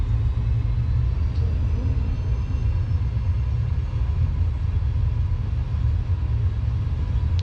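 Boeing 737 jet engines at takeoff thrust, a steady deep rumble with a broad roar inside a motion simulator cabin, constant and loud throughout.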